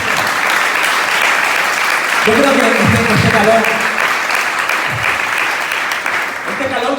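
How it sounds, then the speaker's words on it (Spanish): A church congregation applauds in sustained, dense clapping, with a voice speaking over it partway through as the applause carries on loudly. "¿Por qué no le dan un aplauso al Señor?"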